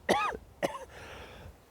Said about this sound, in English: One of my cathartic releases is through coughing.